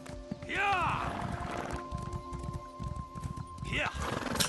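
Horse galloping in the video game The Elder Scrolls Online, steady rhythmic hoofbeats with two loud whinnies, one early and one near the end, and game music holding underneath.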